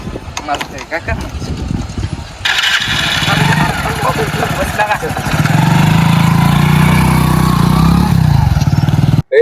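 A tractor engine runs with a steady mid-pitched rumble that grows louder and settles into a continuous drone, with people talking over it throughout.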